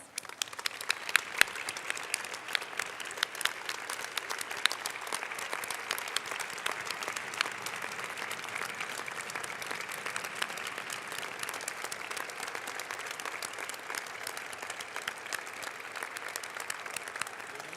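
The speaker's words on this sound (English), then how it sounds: "Can we give them a round of applause?" A large audience at a closing ceremony applauds faculty and staff in steady, dense clapping that runs the whole stretch at moderate loudness, with no talk over it.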